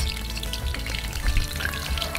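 Shrimp okoy fritters fry in hot oil with a steady, close, dense sizzle and crackle throughout, and no one speaks.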